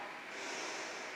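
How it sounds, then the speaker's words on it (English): A strong Ujjayi yoga breath drawn in during a pose, a soft, steady, throaty rushing inhale lasting about a second, close and quiet with no speech. "So strong Ujjayi breath, as it naturally occurs in this particular pose."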